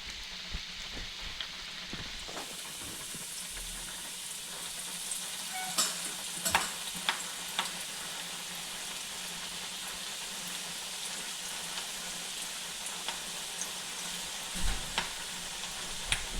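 Flattened papaya snack dough sizzles and crackles in hot oil, a dense steady frying hiss with scattered pops and occasional stirring clinks, close up and with no voices.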